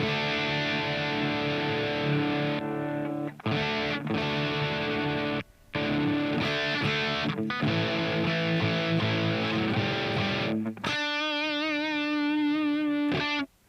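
An electric guitar through a distortion pedal plays loud, buzzing sustained chords with brief gaps, heavily distorted, ending on a wavering, effect-laden tone.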